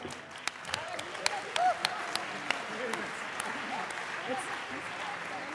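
An audience at a German political party nomination event claps for a newly appointed campaign coordinator, a moderate, even patter of applause with a few sharper individual claps standing out, steady for several seconds.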